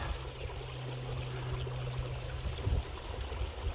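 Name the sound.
creek water flowing at trail crossing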